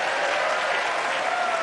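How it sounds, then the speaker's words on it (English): An audience claps at a NASA event unveiling the first asteroid sample returned to Earth from space, giving sustained, even applause from many hands throughout. "don't be afraid to clap or cheer"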